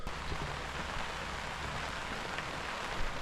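Steady, dense hiss of cold rain and wind outdoors in Orange County, constant and enveloping with no voices.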